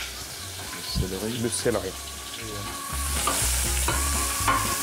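Carrots, onions, ginger and celery sizzle in a pan as they are stirred, a close continuous frying crackle with scraping stirs, while someone speaks French over it.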